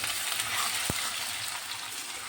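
Onions fry in a pan while being stirred, giving a steady, faint sizzle with a single soft scrape or tap partway through.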